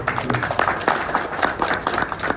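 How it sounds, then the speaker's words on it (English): Round of applause at a Rotary Club meeting after officers are installed, a moderate crowd clapping with distinct scattered claps, fairly close and steady. "So round of applause"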